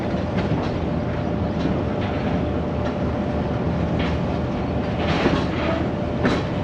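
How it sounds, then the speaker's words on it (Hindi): Awam Express train rolling through Sadoke railway station, a steady loud rumble with clickety-clack of wheels on rail joints, continuous for the whole stretch without voices. "क्या ज़बरदस्त पास थ्रू किया है सादोके रेलवे स्टेशन को 13 अवाम एक्सप्रेस ने।"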